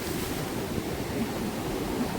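Stormy sea with big waves surging onto the shore, a continuous heavy roar of surf mixed with wind buffeting, close and unbroken, with no voices.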